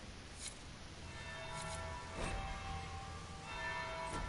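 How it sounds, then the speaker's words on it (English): A church bell tolls in the video game Dragon Age Inquisition, several faint, spaced strikes ringing out over a quiet ambient bed. "Third bell."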